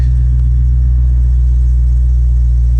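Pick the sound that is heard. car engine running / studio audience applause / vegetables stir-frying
car engine running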